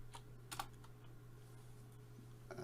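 Light typing on a computer keyboard: a few faint, scattered keystroke clicks with short pauses between them over a steady low electrical hum.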